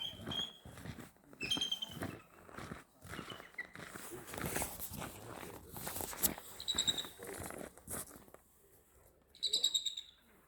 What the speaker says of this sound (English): That's an eagle sound, not the sound that we think of an actual bald eagle.